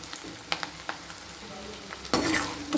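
Ingredients for an okra tamarind curry being sautéed in a pan, with a soft sizzle and a few light stirring taps before a louder burst of frying and scraping near the end, close up.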